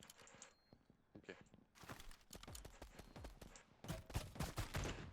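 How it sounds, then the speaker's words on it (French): Gunfire raining down from above in a Mini Royale video game, rapid bursts of shots that grow denser toward the end, with a faint voice underneath. "Ça tire d'en haut, fais gaffe."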